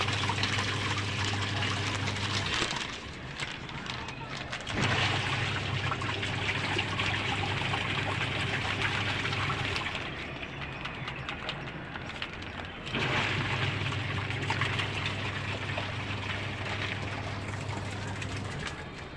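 A washing machine fills with water while washing socks, its low motor hum switching on and off in cycles over a soft trickle of water.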